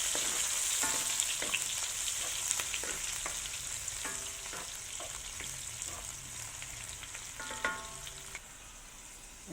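Squid and onions fry in a pan for an adobong pusit dish, giving a steady close sizzle with intermittent stirring scrapes and clicks that ease slightly toward the end. No one speaks.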